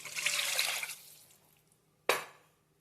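Water splashes into a pan while making upma, a broad hissing pour that fades out, followed by one brief sharp splash near the end.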